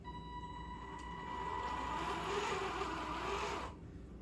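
RC Ripsaw tank's electric drive motor whining up and down under proportional throttle indoors, a steady close tonal whir that rises in intensity midway and cuts off sharply near the end, with no talking.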